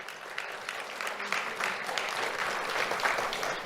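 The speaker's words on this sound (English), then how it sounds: "Let's have a round of applause for Logan Lyle." Audience applause at an awards ceremony, a steady broad wash of clapping from a crowd sustained throughout with no voices on top.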